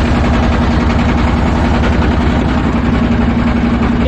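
Steady low diesel-like engine drone of a hilsa fishing trawler on the river at Chandpur, where the Padma, Meghna and Dakatia meet, loud and constant throughout with a continuous throbbing hum and no talk.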